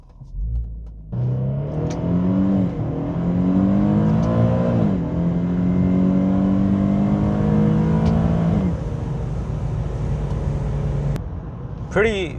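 An Infiniti G37 with a drop-in high-flow intake filter pulls hard in a 60–130 acceleration run. The engine note climbs through each gear in rising sweeps, loud and close, with brief drops at the shifts.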